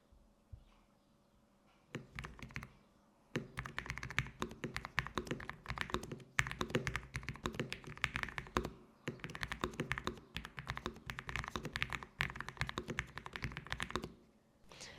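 Rapid keyboard typing fills the stretch after a short pause, dense clicky keystrokes in an uneven rhythm, close and crisp, with brief breaks between bursts.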